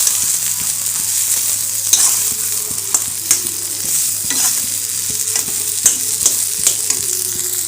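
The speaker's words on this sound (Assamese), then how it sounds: "এইখিনি এতিয়া মই অলপ সময় ভাজিম।" Food sizzles steadily in a pan while a utensil scrapes and stirs it in irregular knocks and clatters, close and fairly loud, with no one talking.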